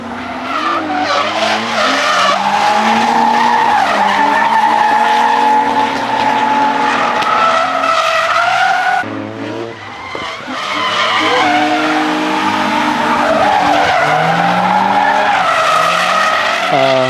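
A Nissan Z drifts at Meihan with a loud, sustained engine roar and screeching tyre skids that run almost without a break, dipping briefly midway before picking up again.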